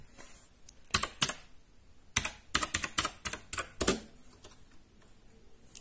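Clicky blue switches on a Gametech Black Rider gaming keyboard rattle through bursts of rapid keystrokes, close and crisp, separated by short pauses.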